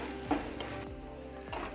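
Onion frying in a pan until reddish, a soft steady sizzle with a few faint stirring scrapes, quiet and close.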